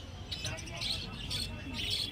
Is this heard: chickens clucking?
no